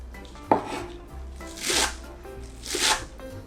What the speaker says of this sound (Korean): 저는 부추를 한 20g 정도 썰어서 넣을 거예요.